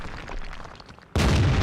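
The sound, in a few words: tank cannon shot hitting enemy, from video game World of Tanks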